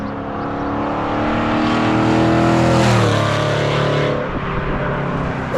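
A 1971 Ford F100 restomod pickup with a 5.0 Coyote V8 drives hard, its loud, continuous engine note climbing, dipping briefly near the middle and rising again, with no talk over it.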